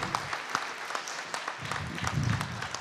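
An audience at an event applauds, a dense, continuous patter of many hands clapping at moderate volume, swelling slightly toward the end.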